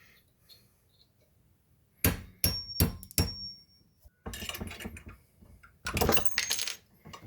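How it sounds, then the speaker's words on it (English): Sharp metallic hammer blows on a punch, driving a driveshaft dogbone pin back out: a quick burst of four strikes, then two denser flurries of rapid ringing taps, close and loud, with quiet gaps between. "So now I gotta hammer this one out again."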